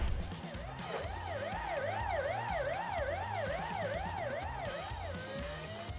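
A video game police siren wails loudly in a rapid, repeating rise and fall over engine noise, then cuts to a steady tone near the end.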